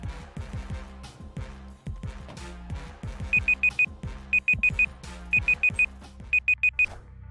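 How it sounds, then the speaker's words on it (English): Loud electronic beeps from a browser playing during a Marvel SNAP card game livestream, sounding in four rapid bursts of four short high tones each, over background game music and effects. "I apologize for the loud beep."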